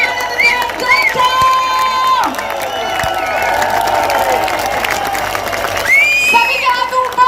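A large audience at a direct-selling company rally in Dehradun cheers, shouts and applauds loudly for CEO Anand Gupta, with sustained crowd noise and an announcer's voice over the top.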